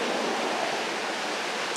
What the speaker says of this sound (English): I'm going to speak up a little bit because of the water fountain behind us.